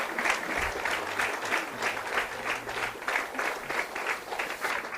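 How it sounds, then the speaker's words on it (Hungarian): Wedding guests applaud at a ceremony as each garland is presented, steady crowd clapping in continuous rolling waves, fairly close and sustained, with a few faint voices underneath. "You can clap for every garland,"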